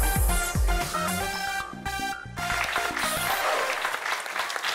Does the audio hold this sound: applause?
yes